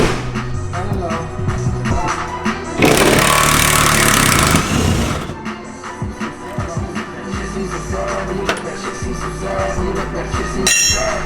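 A torque gun rattles loose bolts while the interior of a van is being ripped out, with one long, loud burst of hammering and shorter sharp impacts around it.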